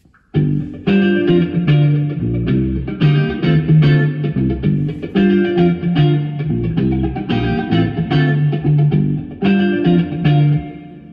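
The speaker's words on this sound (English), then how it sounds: "that'll give you a really nice different sounding reverb on the right channel" A distorted electric guitar plays chords and notes through a Master Room XL-210 stereo spring reverb, with different reverbs on left and right channels, spacious tails ringing out between strums.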